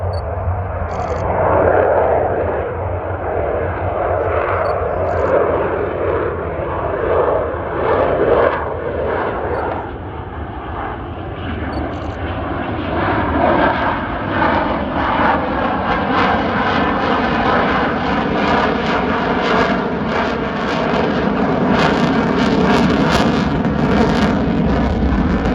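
Military jet aircraft flying high-alpha, nose-up manoeuvres at an airshow at Old Buckenham, a continuous loud roaring engine rumble sustained throughout, swelling and shifting in pitch as it passes.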